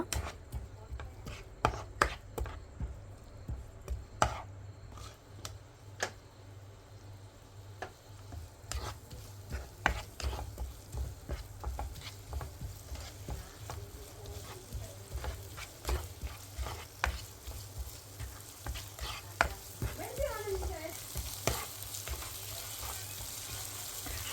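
Crushed ginger, green chilli and garlic paste frying with onions for biryani, a soft sizzle under repeated scraping and stirring clatter from a spoon against the pan, fairly close and irregular.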